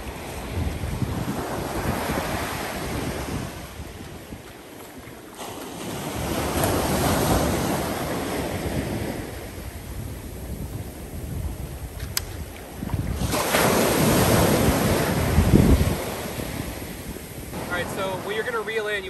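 Ocean surf breaking on a beach where someone stands to fish for Dungeness crab, heard as repeated swelling washes of waves with heavy wind buffeting the microphone, surging louder around the middle and near the end.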